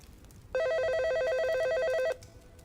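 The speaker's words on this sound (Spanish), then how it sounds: "Un poco después de las 10 sonó el teléfono." A telephone rings at a hotel reception desk at night, one steady trilling electronic ring lasting about a second and a half, clear and alone over a quiet room.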